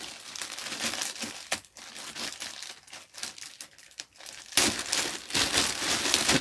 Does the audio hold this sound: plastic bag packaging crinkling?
yes